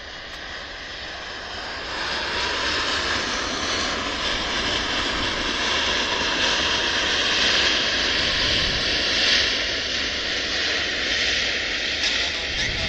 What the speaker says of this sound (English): Very quickly, I'll get the Aeromexico landing.